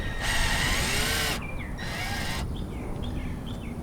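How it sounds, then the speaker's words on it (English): A drill drives screws through roofing sealant into a roof deck during a Starlink install, sounding in two loud bursts separated by pauses, with bird calls in the background. "put this roofing sealant in each one of the holes, and then drive the screws through it"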